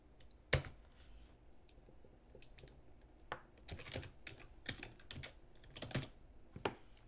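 Rapid keystrokes on a computer keyboard while a name is entered in Unity, with irregular bursts of sharp, close clicks and brief pauses between them.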